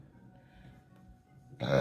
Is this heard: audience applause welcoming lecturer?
no